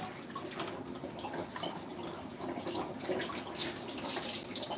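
Tap water running to wash a darkroom photographic print, a continuous close splashing and trickling wash with slight surges, no voices.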